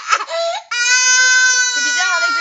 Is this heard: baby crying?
yes